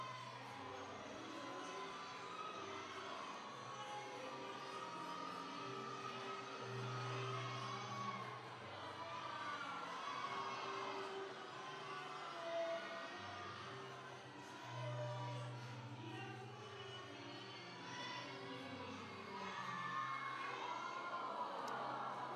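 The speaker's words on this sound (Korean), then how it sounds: "귀가 시끄럽대죠. 형들이 소리 지르니까." Crowd of older schoolchildren, second to sixth graders, shouting and cheering loudly and continuously to welcome first graders entering school, a dense wall of young voices with rising whoops throughout.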